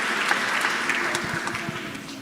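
Clapping from a Sunday church congregation, a steady mid-level patter of many hands that continues evenly without a clear break.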